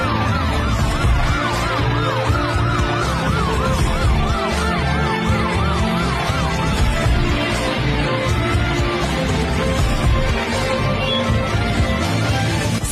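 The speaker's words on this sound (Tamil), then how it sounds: "உதவிக்கு அவசர ஆம்புலன்ஸ்." An ambulance siren wails continuously, its pitch sweeping up and down over loud traffic and street noise.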